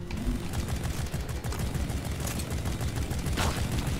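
A sentry gun in Deep Rock Galactic fires steady rapid bursts amid dense continuous gunfire and cave combat noise, loud and unbroken throughout.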